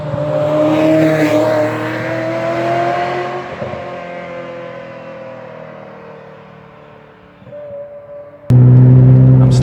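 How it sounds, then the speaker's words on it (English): Ferrari 355 with a valveless tube exhaust on the road, a loud engine drone that winds down as the car eases off, then surges back at full volume near the end, with no speech. "my particular car here has a tube exhaust, and the valve was removed, so it's a very loud car."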